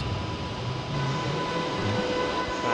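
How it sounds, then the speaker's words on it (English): An empty intercity train pulls out of Frankfurt Hbf, giving a steady, even rumble with a faint sustained hum and no clear clatter or horn. "Empty intercity service leaves"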